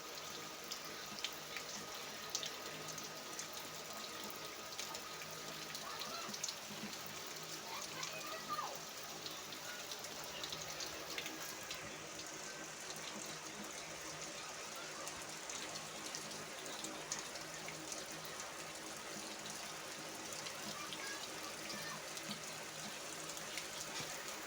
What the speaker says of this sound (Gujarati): વરસાદ વરસવાનું ચાલુ છે, અંદરા ધાર પડે છે અત્યારે હાલમાં.